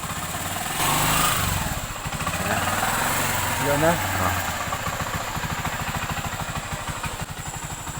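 A Honda TMX125 motorcycle engine idling after its starter was repaired, a steady close mid-pitched putter with a rapid even pulse, while someone speaks briefly over it.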